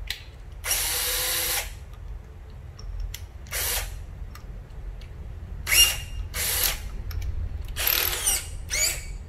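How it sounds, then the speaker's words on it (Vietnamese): A Japanese battery-powered electric drill whirs in several short bursts, starting and stopping repeatedly with brief gaps between runs, close and fairly loud against a quiet background. "Cây khoan ha, cây khoan gốc."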